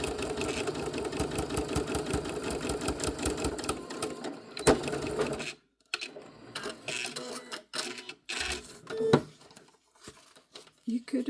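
A home sewing machine stitches through fabric scraps to make handmade tags, a fast rhythmic mechanical whirr for several seconds, then stopping and starting in short bursts, with talk partly over it.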